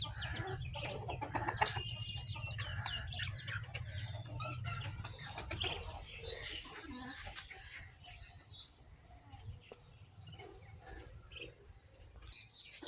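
Native deshi chickens cluck and call steadily in a small backyard flock, with occasional wing flapping and faint chirps from small birds over a low background hum.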